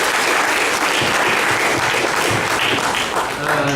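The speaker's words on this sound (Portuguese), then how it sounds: "eu queria pedir uma salva de palmas para essas pessoas" Dense audience applause fills a college game-project presentation, a continuous, fairly loud patter of many hands clapping at once with faint voices mixed underneath.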